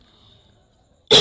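A single sharp cough, loud and close, bursting out at the end after near silence.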